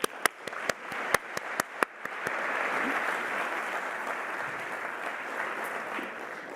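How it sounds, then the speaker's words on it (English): A graduation-ceremony audience gives a round of applause, opening with a few loud, distinct claps before swelling into a dense, sustained wash of clapping that holds steady to the end. "One more round of applause."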